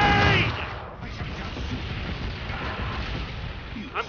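Heavy gunfire aimed at a player in Killing Floor 2 on the Biotics Lab map forms a dense, booming, continuous barrage, with a brief voice at the start.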